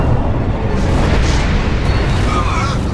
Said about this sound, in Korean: 그냥 될 대로 되라는 식으로 터트려버리는 폭탄